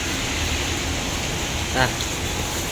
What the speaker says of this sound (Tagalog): Naulan pa, lakas. Nabot na ng ulan.